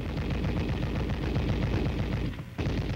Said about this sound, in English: and the gun is ready to fire.